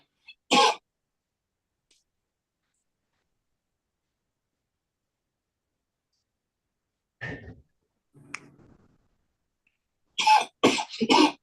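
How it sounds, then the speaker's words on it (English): Scattered coughs picked up through a participant's device during an online court hearing break the silence: one short cough, then a few quieter throat sounds, and finally a cluster of sharp coughs close together. "is that somebody's coughing from your device?"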